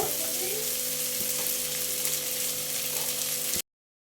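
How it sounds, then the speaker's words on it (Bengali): Green banana sautéing in a pan for a fish curry, with steady close frying sizzle and occasional stirring, loud and continuous until it stops abruptly. "একটু কষিয়ে নিব।"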